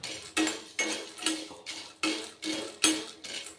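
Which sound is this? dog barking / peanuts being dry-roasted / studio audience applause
peanuts being dry-roasted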